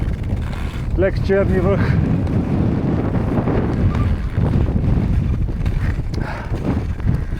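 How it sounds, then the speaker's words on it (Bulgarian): Strong cold wind at -20°C buffeting the microphone near the summit of Cherni Vrah, a constant low rumble throughout, with a person speaking briefly over it. "Вятъра доста хапе."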